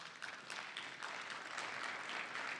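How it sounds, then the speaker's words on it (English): Steady applause from a conference audience, even and continuous, fairly faint and distant, with no voices over it. "Ladies and gentlemen, a big round of applause,"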